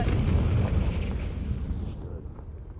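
A single loud blast from the Confringo blasting spell in Hogwarts Legacy, a deep booming burst that rumbles and fades away over a couple of seconds.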